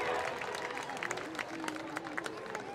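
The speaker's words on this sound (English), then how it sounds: "let's give a big round of applause for Kevin Burt and Bad Medicine" Festival crowd applauds and cheers as blues act Kevin Burt & Big Medicine is introduced at an outdoor blues festival, a dense wash of clapping and crowd noise with voices mixed in throughout.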